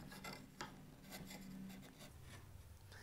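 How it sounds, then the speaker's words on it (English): A line is scribed along a wooden stretcher of a table base, giving faint, short scratchy rubbing strokes close by in a quiet workshop. "I'm just going to scribe a line on it"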